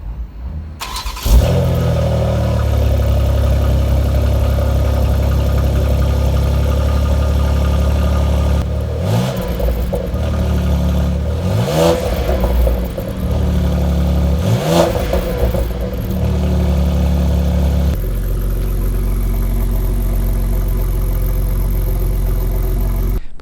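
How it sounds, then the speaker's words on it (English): A 2020 BMW X3 M with quad-tip exhaust cold-starts with a sharp bark, then holds a loud, steady high idle, with a few brief rev blips in the middle before settling. "I just did a cold start with this thing,"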